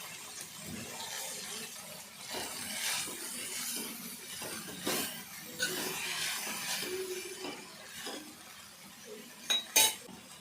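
Mint and coriander leaves frying in a little oil in a pan, with soft sizzling under intermittent clinks and scrapes of a stirring spoon against the metal, close and fairly quiet.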